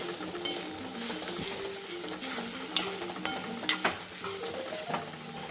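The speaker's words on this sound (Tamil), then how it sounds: "நல்லா மிக்ஸ் பண்ணிக்கலாம்." Chilli flakes, Kashmiri chilli powder and salt stirred in a pan, a continuous sizzle with repeated metallic scrapes and taps of a spoon against the pan, close and clear, no talking.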